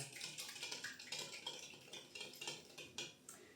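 A spoon stirs yeast and warm milk in a bowl as batter for fluffy yeast pancakes is started, giving rapid, rhythmic scraping and clinking close up, with no voices.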